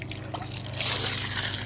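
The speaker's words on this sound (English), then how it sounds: "I'm going to fill it with water and I'm going to tip it out over there" Water poured into a bisque-fired ceramic pot and then tipped out, a soft continuous splashing trickle up close, growing a little louder partway through, with no talking.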